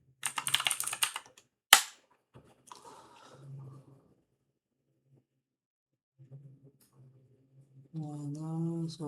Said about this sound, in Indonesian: kita verifikasi untuk melihat apakah security sudah aktif dengan cara mengetik perintah show version